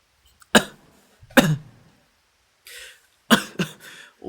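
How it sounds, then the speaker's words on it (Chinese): Several sharp, close coughs in short bursts: two single coughs, a pause, then a quick pair, with quiet gaps between. "我咳嗽了"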